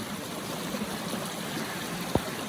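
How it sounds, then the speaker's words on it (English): A main river flowing past a small island of roots and branches beside a little tributary, heard as a steady broadband rush with one brief knock near the end. "That's the main river. It flows this way."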